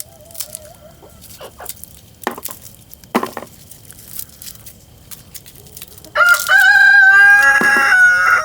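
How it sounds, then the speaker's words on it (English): A rooster crows loudly and close by, a long harmonic call after a few seconds of scattered light tapping and pecking sounds. "Hi, Rooster."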